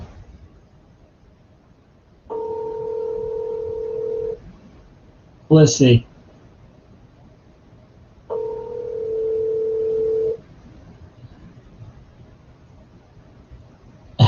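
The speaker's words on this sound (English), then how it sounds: "I'm gonna call this guy up and see what happened to him." Phone ringback tones heard over a speakerphone, two long buzzing tones a few seconds apart with a brief burst of tones between them, and a short spoken remark.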